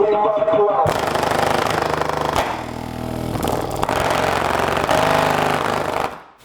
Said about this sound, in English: Speaker blowing is just one of those things where it's really unfortunate